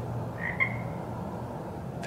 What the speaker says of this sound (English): There is a frog in our yard.